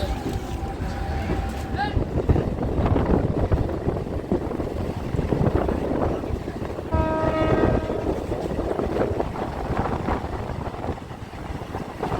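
Train running through Ranaghat Junction station: heavy continuous rumble and rattle of the carriages, with a horn blast sounding midway, heard from on board with voices over the noise.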